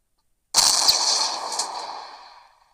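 A single tank cannon shot firing an HE round in the Roblox WW2 Tank Simulator game: one sharp, loud blast with a long rumbling decay that fades over about two seconds, with no talking.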